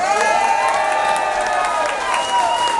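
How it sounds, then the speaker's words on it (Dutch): Crowd at a retro popcorn party in Wenduine cheering and clapping for the speaker's wife, a steady sustained roar with tonal music-like lines running underneath throughout. "Applaus voor haar ook."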